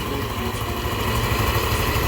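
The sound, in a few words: motorcycle engine idling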